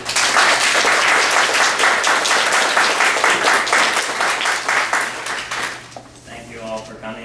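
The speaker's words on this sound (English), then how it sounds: "So this is someone who volunteered to come and do this for you, so please give him a hand and welcome him." An audience at a National Science Foundation workshop gives a steady burst of applause to welcome a volunteer speaker, loud dense clapping that fades out over the last second or so.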